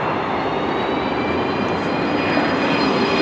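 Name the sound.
airplane flying overhead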